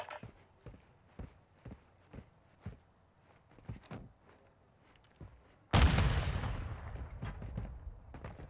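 Gunfire in a Call of Duty gunfight match: a series of sharp, evenly spaced shots, followed by a much louder blast with a long rumbling decay under which more shots continue.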